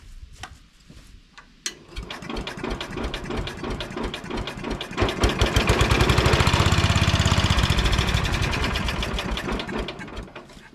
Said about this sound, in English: And she fired, so there you go, it runs.